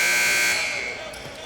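A shot clock buzzer sounds at an NAIA men's college basketball game, a loud sustained electronic tone that holds steady for about half a second, then fades under arena crowd noise.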